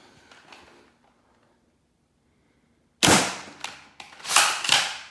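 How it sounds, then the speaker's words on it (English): A toy foam blaster fires green Dart Zone bamboo darts, giving several sharp, loud pops in quick succession after a quiet stretch. "This is firing the green Dart Zone bamboos."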